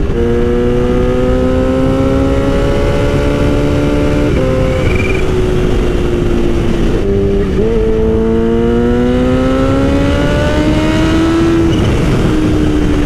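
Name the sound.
Kawasaki Ninja H2 motorcycle accelerating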